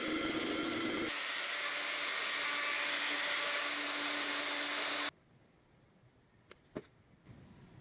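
A loud, steady machine whine of a drill press boring into wood with a Forstner bit runs for several seconds, then cuts off, leaving quiet room tone and a few small knocks.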